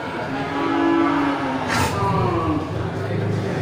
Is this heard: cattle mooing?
yes